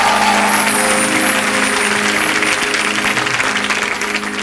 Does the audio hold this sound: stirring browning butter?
no